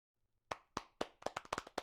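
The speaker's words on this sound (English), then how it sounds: "We applaud you again." A small audience at a virtual conference session claps in a short burst of about eight distinct, close hand claps after a brief quiet start.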